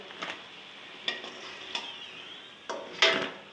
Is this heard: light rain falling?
no